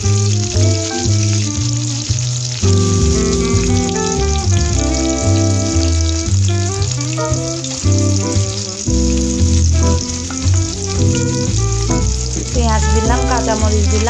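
Spices sautéing in oil for a Bengali egg curry and tilapia fish dish, giving a steady, continuous sizzle that runs under loud background music throughout.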